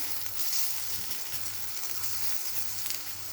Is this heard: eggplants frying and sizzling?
yes